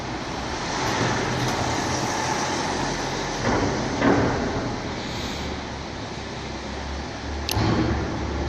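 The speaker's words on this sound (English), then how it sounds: "Another car is coming here." A car approaches and passes by on a road, the broadband swell rising and falling over several seconds, with a few sharp clicks and knocks and no talking.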